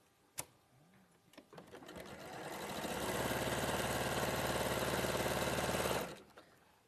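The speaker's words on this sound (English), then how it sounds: "what you're going to do this time is sew on the line" Sewing machine stitching fabric pieces along a line, starting up after a few light clicks and handling, then running in a steady, close, even whir for about three seconds before stopping.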